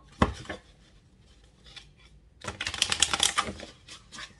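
A deck of playing cards is shuffled in a fortune-telling card reading, with a few soft riffles and taps followed by a longer dense burst of rapid flicking clatter.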